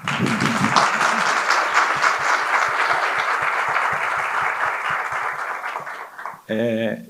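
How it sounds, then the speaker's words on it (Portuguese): Applause from a literary festival audience for author Stefano Volp, a loud, full round of clapping that carries on steadily for about six seconds before cutting off as a voice begins to speak. "Palmas para o Stefano."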